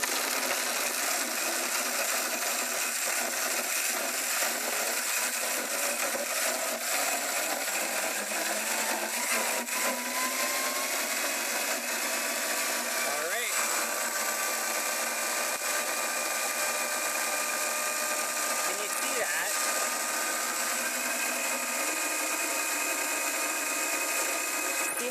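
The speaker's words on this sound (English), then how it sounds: "when it comes out of the Vitamix, after being on for a little while, it's going to be nice and smooth" A Vitamix blender runs continuously while blending ingredients for an Indian-inspired flatbread pizza, giving a loud, steady high-pitched motor roar with slight shifts in pitch as the contents churn, close up, with no voices.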